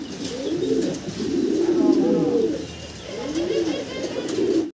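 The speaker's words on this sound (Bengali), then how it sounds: "আবারও আমরা লক্ষা কবুতর দেখতেছি" Fantail pigeons coo in repeated low, throaty rolling calls, close and fairly loud, with brief pauses between bursts.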